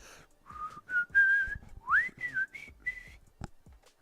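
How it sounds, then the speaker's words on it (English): A person whistles a wavering, halting tune during a livestreamed basketball game, with a run of short pitched phrases and slides that is fairly close and a little shaky, ending in a sharp click. "I'm going to see if I can't do my whistle."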